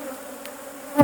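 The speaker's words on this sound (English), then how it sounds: "As you can see, the bees are a little bit irritated about it." Honeybees hum in a steady, close drone from a freshly opened hive, with one brief louder buzz near the end.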